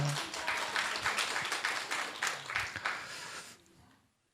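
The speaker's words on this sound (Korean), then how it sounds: "큰 박수로 환영해 주시기 바랍니다" A church congregation claps to welcome a visitor, a lively burst of many hands with slightly rhythmic peaks that fades away over the last second into quiet.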